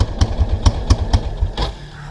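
A 1999 Kawasaki Prairie 300 ATV engine held at full throttle, loud and close, with a fast pulsing, clattery beat and a few sharp bursts.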